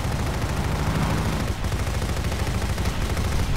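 Rapid machine-gun fire from 1940s planes in an aerial dogfight in the video game Crimson Skies: High Road to Revenge: a dense, loud, sustained rattle that dips briefly midway and then continues.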